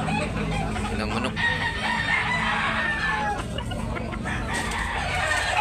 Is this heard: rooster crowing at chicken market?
yes